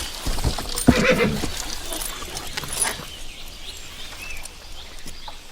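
A horse whinnies once in a brief, close burst near the start, followed by quieter rustling and hoof movement outdoors in a period drama setting.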